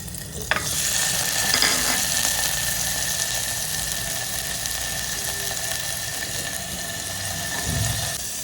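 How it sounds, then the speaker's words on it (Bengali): Garlic, onion and cut vegetables sizzle steadily in hot oil in a home kitchen pan, a loud, dense frying hiss that runs unbroken, with a sharp clink near the start. "এবার তেলটা গরম হতে দিয়েছি, তেলের ওপর দিয়ে দিচ্ছি রসুন আর পেঁয়াজ।"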